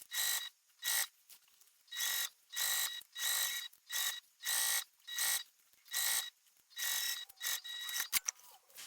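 A sewing machine back-stitching through knapsack fabric runs in short, loud bursts of rapid stitching with brief pauses between them, about ten runs close by, and a few clicks at the end.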